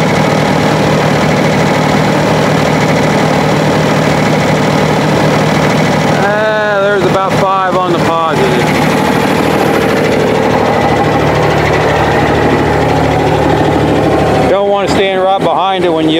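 A tractor engine drives a pump with a loud, constant mechanical drone throughout, and a voice cuts in briefly twice over the noise.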